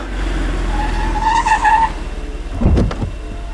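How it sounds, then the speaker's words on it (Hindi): A car brakes hard and its tires skid in a long, loud squeal, followed by a heavy thump and rumble as the vehicle jerks to a stop nearby. "रोको, गाड़ी रोको।"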